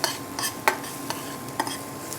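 Fresh garlic and salted onion cook in a pan, with a low sizzle under a few sharp clicks and scrapes of stirring spread across a couple of seconds.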